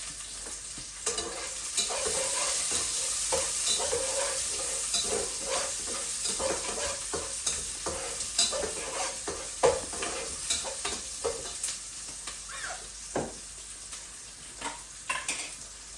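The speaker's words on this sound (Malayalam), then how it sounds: "ശലറ്റ് നല്ലപോലെ സോട്ട് ചെയ്യുക" Shallots sautéing in a pan with mustard seeds for a Kerala-style varutharacha lamb curry, a steady close sizzle with frequent scraping stir strokes and spoon clinks throughout, no talk.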